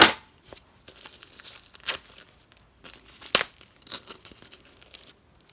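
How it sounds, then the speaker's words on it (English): Scissors snip through a paper yarn wrapper and it is pulled away, making several short crisp cuts and crinkly tearing rustles spaced over a few seconds, close and quiet. "I'm going to take this off, cut off my wrapper."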